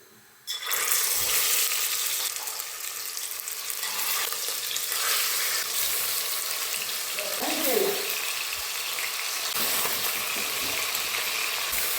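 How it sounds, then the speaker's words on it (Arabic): Chicken pieces frying in hot oil in a cooking pot give off a loud, steady sizzle that holds at close range from the first half-second to the end, with a faint voice-like sound briefly near the end. "راح نقلي الدجاج تاعنا مليح على الجهتين"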